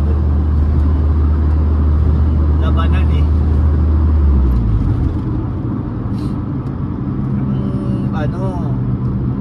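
Busy Manila road traffic heard from inside a vehicle, with a steady low engine rumble and many cars around; someone talks over it throughout, and a brief horn-like tone sounds near the end.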